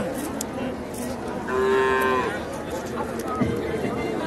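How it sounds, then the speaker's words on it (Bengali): A Red Sahiwal cow at a busy cattle market gives one clear, drawn-out moo over steady crowd chatter and bargaining voices nearby. "মাশাআল্লাহ, খুব চমৎকার একটা গরু, লাল শাহিওয়াল"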